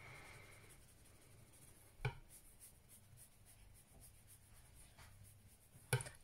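Arteza watercolour pencils are swatched on paper as a quiet, steady scratch of strokes, with a couple of small taps.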